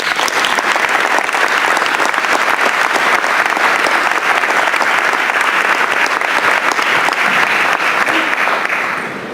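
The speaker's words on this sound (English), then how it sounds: "give all the presenters, poster and oral, a round of applause" A conference audience gives the presenters a sustained, dense round of applause, loud and even from start to finish before tapering slightly at the end.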